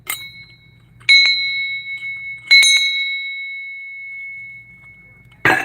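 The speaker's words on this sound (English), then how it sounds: "Look at this bell, massive bell." A massive hand-held school bell is struck twice, each clear metallic ding ringing out and slowly fading, with a clattering knock at the end and a low voice in the background.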